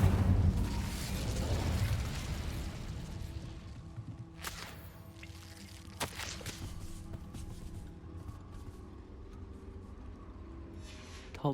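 An Incendio fire spell cast in Hogwarts Legacy, a loud whooshing fiery burst at the start that fades into a crackling rumble, followed by sharper pops and whip-like cracks.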